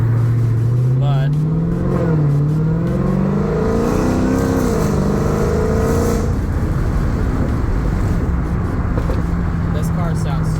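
A 2020 Dodge Challenger Hellcat Redeye Widebody runs with its engine audible throughout. Its pitch climbs and swells through several revs before settling into a steady idle. A person talks over it for much of the time.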